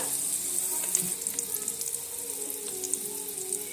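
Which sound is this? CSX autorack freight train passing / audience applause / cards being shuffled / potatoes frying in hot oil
potatoes frying in hot oil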